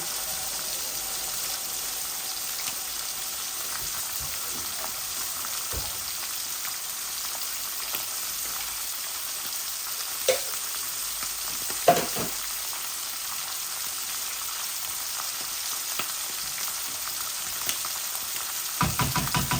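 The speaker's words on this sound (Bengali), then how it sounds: "এই যে আমার রসুনটা লাল হয়ে গেছে, আমি এই তিল টমেটোটা ঢেলে দিচ্ছি।" Tomato and garlic fry in a pan with a constant, even sizzling hiss, close by, broken only by a few faint spoon clicks and scrapes, with no talking.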